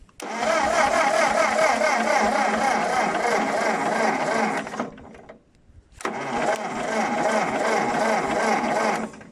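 A Ford 8N tractor engine cranks over on its starter in two long bursts of rapid, even churning, loud and close, separated by a brief pause of near silence.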